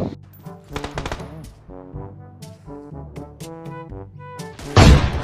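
An M24 sniper rifle fires a single loud, sharp crack near the end in PUBG Mobile, heard after several seconds of tonal background music and game sounds.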